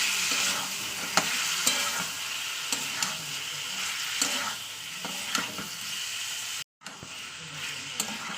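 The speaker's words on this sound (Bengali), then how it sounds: "অল্প হাফ চামচ পরিমাণ গরম মশলার গুঁড়ো এটা দিয়েও আবার একটু কিছু কষিয়ে নেবো" Meat stir-fried with garam masala powder in oil in a pan, a constant sizzle broken by regular scraping strokes of the spoon about once a second, close and clear with no talk.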